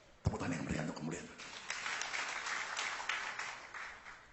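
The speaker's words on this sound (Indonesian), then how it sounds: "Tepuk tangan yang meriah untuk kemuliaan." Church congregation breaking into lively applause, a faint, dense crackle of many hands clapping that builds and holds, with a voice speaking over it.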